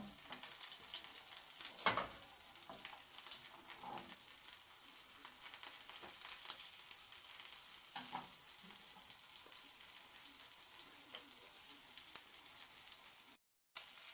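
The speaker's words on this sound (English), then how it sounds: "I am shallow frying." Steady crackling sizzle of beef kebabs shallow frying in a small amount of oil, continuous and close, with a few brief louder pops and no talking.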